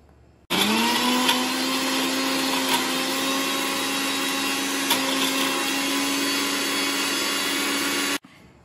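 Mixer grinder whirring loudly as it grinds chicken mince with herbs and lemon juice into paste, a steady high motor drone starting abruptly, holding constant for several seconds, then cutting off, close and alone.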